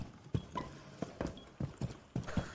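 Horse hooves clop in an uneven galloping rhythm in a video game, a run of close, moderately loud thuds with no talking over them.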